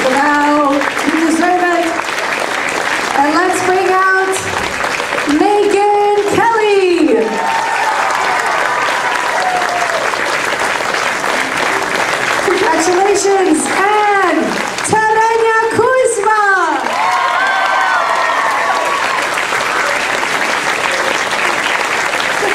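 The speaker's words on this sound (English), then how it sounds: "let's please give a big round of applause for Christian Buzik" Sustained audience applause at a Ukrainian dance school's year-end Hopak performance, a continuous bed of clapping running throughout under a loud voice speaking over a microphone.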